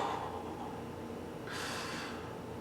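A person sniffs a freshly opened beer up close, a soft breathy inhale followed by a brighter, airy hiss of breath, with no talking.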